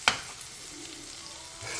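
Sliced bitter gourd dry frying in a pan, with a soft, steady sizzle following a single sharp scrape or clink at the start.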